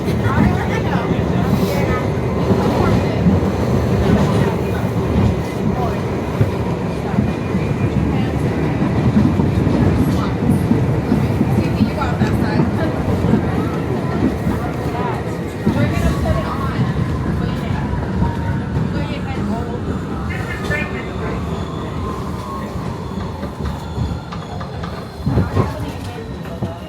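New York City subway train running, a loud continuous rumble with rattling clatter and a fading high screech near the end, with voices talking over it.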